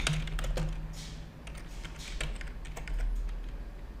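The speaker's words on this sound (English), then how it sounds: "Let me just type that in here." Close, crisp keystrokes on a computer keyboard tap out in quick uneven bursts with short pauses, over a low steady background hum.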